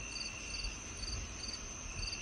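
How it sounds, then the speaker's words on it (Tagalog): Crickets chirping at night around a quiet house surrounded by trees and plants: a steady, high, pulsing trill repeating in even bursts over a faint low hum, moderately distant and alone without voices. "Dinig na dinig din niya mga kuliglig sa sobrang tahimik ng paligid."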